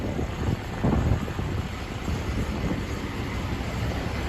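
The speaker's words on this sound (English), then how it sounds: "I'll give you one more look at the Metro mover here." An automated Miami Metromover people-mover train rumbles past on a windy night street, a steady low rolling roar that swells around the first second and then holds evenly without talk.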